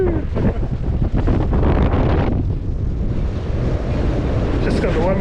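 Strong gale-force wind roars steadily across the microphone aboard a sailboat with one sail up at the Avimore classic, with water rushing against the hull underneath and a voice speaking faintly through the gusts.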